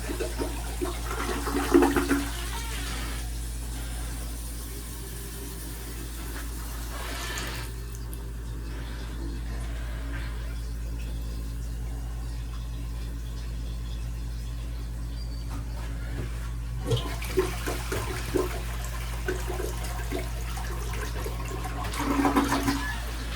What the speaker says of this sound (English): flush the toilet a couple of times